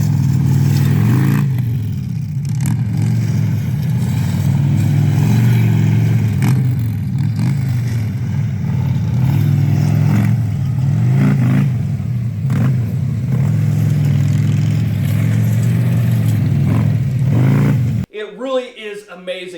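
A heavy Harley-Davidson bagger motorcycle's engine rumbles and revs, a deep, loud, continuous throb that rises and falls in several surges before cutting off abruptly, followed by someone talking.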